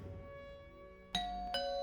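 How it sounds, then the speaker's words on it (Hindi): A doorbell chimes twice in quick succession, a bright ding-dong tone ringing out clearly in a quiet indoor scene of a horror story, with a faint sustained tone beneath and no talking. "फिर कुछ समय के बाद डोरबेल की आवाज से उसकी नींद खुली"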